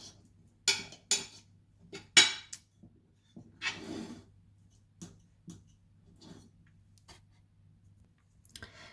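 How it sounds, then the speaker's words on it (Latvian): A metal spoon spreads butter around a baking dish for a curd casserole: sharp clinks and taps against the dish, a short scraping smear partway through, then softer scattered knocks in a quiet kitchen. "Un tā mēs ar karotīti pa visu formiņu to sviestu"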